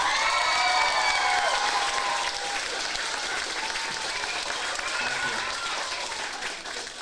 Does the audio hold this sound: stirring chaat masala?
no